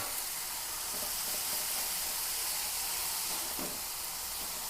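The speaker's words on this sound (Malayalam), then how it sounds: "അച്ചിങ്ങ ഇട്ട് കൊടുക്കാം." Long beans (achinga) hitting a hot pan, giving a steady broadband sizzle with faint stirring scrapes, close and moderately loud, with no voices.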